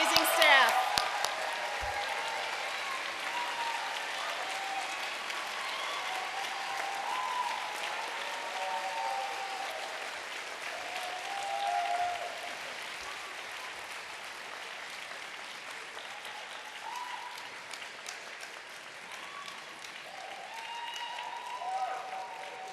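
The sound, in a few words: audience applause for teaching staff at high school commencement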